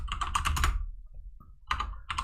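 Computer keyboard keys are pressed in two close bursts of rapid clicking, with a short quiet gap between them.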